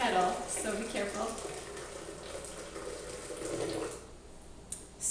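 Hot water from a kettle poured into a blender, a steady splashing gush with faint sizzle-like hiss that runs for about four seconds, then tapers off near the end.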